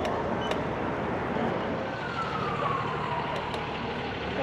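Steady traffic roar with a faint siren wail rising and falling in the distance, gradually growing as it approaches.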